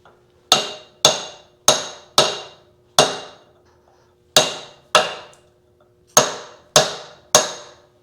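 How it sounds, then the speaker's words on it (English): A hammer lands light, sharp taps on the reduction gear of a 1928 John Deere D tractor during teardown: about ten crisp metallic knocks, close and isolated, falling in small clusters with short quiet gaps between them. "So I'm just giving it some light taps with the"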